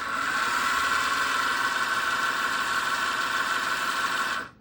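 A Blockhead Motors Hotshot 2 four-wheel-drive RC car runs with its drive shaft spinning, making a constant whirring drone, close and steady, that cuts off abruptly at the end.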